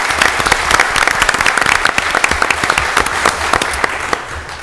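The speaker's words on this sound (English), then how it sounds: "accept a round of applause for coordinating that" A city council meeting audience gives a round of applause, loud dense crackling claps from many people filling the chamber, steady throughout and easing slightly at the close.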